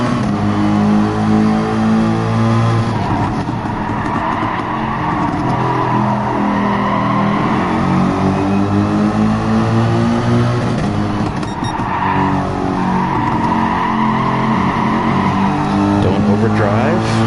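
Drag race cars accelerate hard with loud, sustained engine roar and rising revs, tires squealing at times, with a voice talking over the racing noise.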